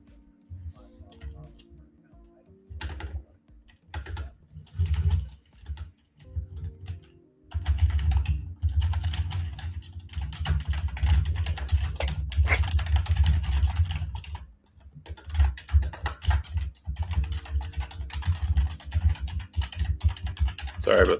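Typing on a computer keyboard in a trading setup, with rapid clustered key clicks running under steady talk through most of the stretch.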